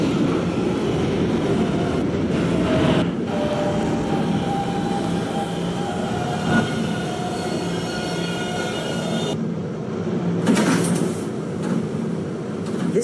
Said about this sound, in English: This is a Kennedy Main Street bound 11 express train.